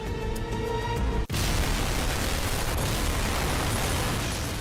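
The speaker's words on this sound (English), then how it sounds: "A second colossal explosion rips through Legian Street." A second massive bomb blast from an explosive-packed white Mitsubishi van rips through Legian Street outside the Sari Club in Bali. After a brief lull, a single huge, sustained roar of broadband rumble fills the rest of the clip at full loudness.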